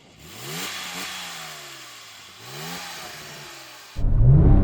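A Porsche 911 Turbo 996 engine revs twice in quick succession, each rising blip falling back toward idle, followed by a sudden loud burst of broadband roar at the end.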